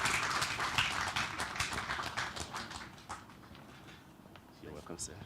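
Conference audience applauding as a speaker is welcomed on stage, a dense patter of clapping that starts strong and thins out over several seconds, heard from within the hall.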